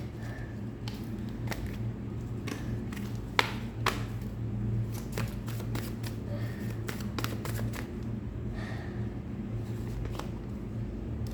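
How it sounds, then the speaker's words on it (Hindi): Tarot cards are shuffled and drawn by hand, with soft repeated riffling flicks and light taps spread unevenly through a quiet room with a low steady hum and no talk. "देन मैं यहाँ पे 5 कार्ड्स लूँगी और जानूँगी और क्या एनर्जी है।"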